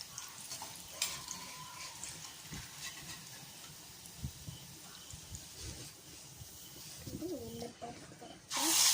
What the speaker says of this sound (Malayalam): ഇനി നമുക്കിത് വേറൊരു പാത്രത്തിലേക്ക് മാറ്റാം ഇതിൽ നിന്ന് ഇതുപോലെ അരിപ്പയുള്ളൊരു തവി ഉപയോഗിച്ച് നമുക്ക് ഇത് ഇതിൽ നിന്ന് മാറ്റിയെടുക്കാം